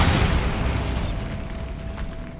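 A Bombarda blasting spell in Hogwarts Legacy, heard inside a catacomb tomb, erupts as a loud booming explosion that rumbles and fades away over a couple of seconds.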